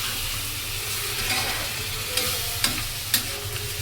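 A poured spice mixture stir-fried in a pan: continuous sizzling with a low hum beneath and a few sharp spoon scrapes and taps toward the end, close by, no voices.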